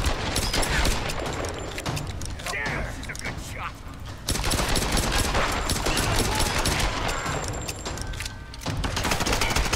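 Heavy pistol fire in the Tomb Raider video game, a loud, nearly unbroken barrage of close shots with only brief lulls.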